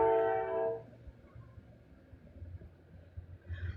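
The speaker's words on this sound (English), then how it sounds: "Sorry about the train, y'all." A passing train blasts a loud, sustained horn at the start, then a low rumble of rolling rail cars carries on steadily underneath during a lightning storm, with no talking.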